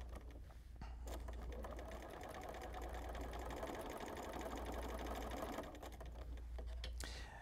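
A sewing machine stitches continuously during free motion quilting, a close, fast, even mechanical whir that holds steady for several seconds before stopping near the end.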